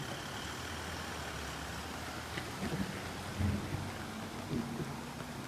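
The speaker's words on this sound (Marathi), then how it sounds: "पाऊस पण खूप आहे" Heavy rain pours steadily at the seaside, with low thunder rumbles swelling a few times in the second half over the constant hiss. No voices.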